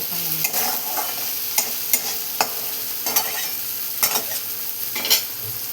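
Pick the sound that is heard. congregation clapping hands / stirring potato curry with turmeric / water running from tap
stirring potato curry with turmeric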